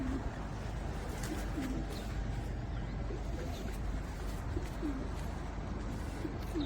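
Pigeons coo in low, soft repeated calls over steady outdoor background noise, several separate coos spread across the stretch, fairly faint and close.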